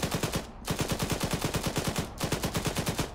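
Automatic gunfire engaging infantry in Arma 3, rapid rhythmic machine-gun bursts in three long strings separated by brief pauses, loud and close with no talk.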